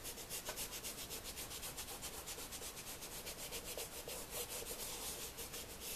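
Sandpaper rubbed over the sole of a John Lobb leather shoe in steady, quick back-and-forth strokes, a continuous close, dry scratching with an even rhythm and no talk.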